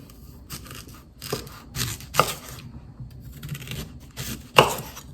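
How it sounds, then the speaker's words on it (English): A knife slices through a garden pear on a board, giving a series of short, crisp cuts and taps at an uneven rhythm, close and moderately loud. "And then now let's slice this pear."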